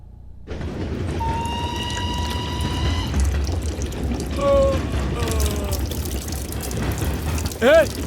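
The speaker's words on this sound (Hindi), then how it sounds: "पानी बह रहा है।" Water flows steadily in a continuous broadband wash that fills the whole stretch, with faint tonal squeaks and a brief sharp chirp near the end.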